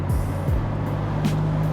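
A car on an early Sunday morning drive, its steady low engine and road rumble continuous and close throughout, with a couple of brief low shifts in pitch and no talking.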